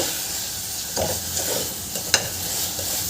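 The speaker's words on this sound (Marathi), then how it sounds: "मी छान असं परतून घेते तांदूळ" Rice stir-roasted in a pan over high heat, a continuous dry sizzle with occasional scraping strokes of the spatula and one sharp clink, close and steady.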